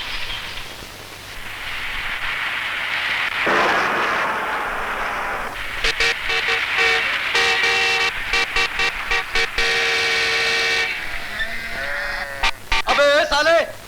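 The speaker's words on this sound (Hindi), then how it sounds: "अबे हटाओ अपने इन भेड़ बकरियों को" Sheep and goats bleating on a road in front of an ambulance, several wavering cries rising near the end over loud, continuous shouting voices and a siren-like drone.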